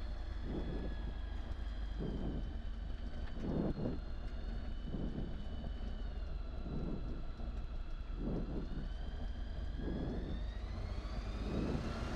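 Engine of an EV97 Team Eurostar light aircraft at full power for takeoff from runway 28, a loud, steady droning hum with rising tones heard from the cockpit, plus regular thumping bumps as the plane rolls.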